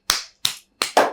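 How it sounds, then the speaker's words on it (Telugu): Four sharp hand claps from a small group at a children's interview, spaced unevenly over about a second, close and fairly loud with quick decay. "క్లాప్స్ కొట్టండి అందరూ."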